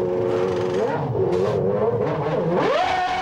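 Senna's McLaren Formula 1 car at the 1992 San Marino Grand Prix comes into the pits, its high-pitched engine wailing and dropping, then rising again in sharp revving sweeps, loud and close with no talk.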